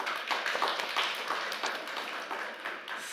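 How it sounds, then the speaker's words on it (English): Audience applause for a panel at a hydrogen valleys conference, a steady patter of many hands clapping at moderate distance, fairly quiet and even throughout with no talk over it. "Please give them an applause."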